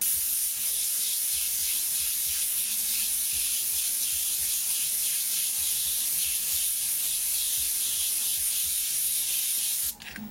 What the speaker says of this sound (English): we're just going to spray right over top of that stencil